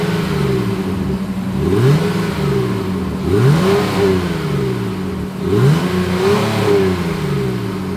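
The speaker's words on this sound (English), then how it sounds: "As always, here is that exhaust clip." Exhaust of a 2021 Honda Pilot being revved, three distinct rising-and-falling revs spaced a few seconds apart over a steady idle, loud and close with no talking.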